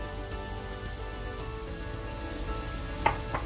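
Tomatoes sizzle in a hot Instant Pot set to high for beef biriyani, a steady close crackling hiss with a couple of sharper pops near the end.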